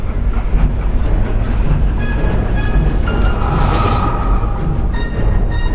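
A cartoon train hauling stone trucks along a branch line runs steadily and loudly throughout, with rumbling wheels, rhythmic clatter and a brief high metallic squeal partway through.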